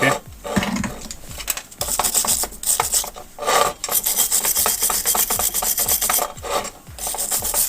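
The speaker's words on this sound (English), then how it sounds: "every time you do a weld to take the wire brush" A wire brush scrubs back and forth over a fresh weld on a metal sculpture, making loud, rhythmic rasping strokes with brief pauses between passes.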